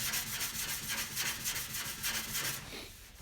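Sandpaper rubs over primer on a Supra car body in quiet, rhythmic back-and-forth strokes, close but faint, easing off near the end.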